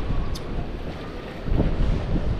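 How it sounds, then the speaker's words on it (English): Strong gusting wind buffets the microphone on a windy New Year's Day fishing outing by the water, a steady roar with louder surges toward the end and no talking. "the forecast was windy, but I didn't think it was gonna be this windy."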